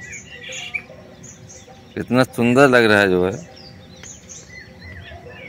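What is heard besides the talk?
birds chirping in the morning at an Indian village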